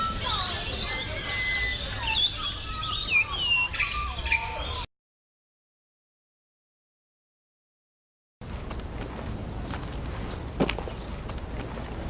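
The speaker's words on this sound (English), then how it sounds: "And the birds are wonderful." Several birds chirp and tweet in high, varied calls for about five seconds, then silence, followed by a quieter outdoor stretch with faint chirps and a brief sharp sound.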